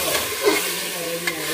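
Turmeric- and salt-coated mutton going into onions frying in hot oil, a loud continuous sizzle with brief stirring scrapes, close up and with no talking.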